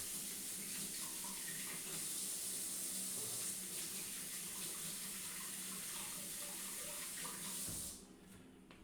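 Tap water runs steadily into a sink during handwashing in a home kitchen, a loud continuous splash that stops abruptly near the end.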